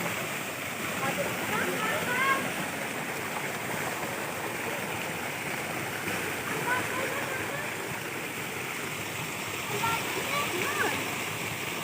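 Water rushes and gurgles steadily over a shallow, dirty riverbed, a constant flowing wash with faint voices now and then.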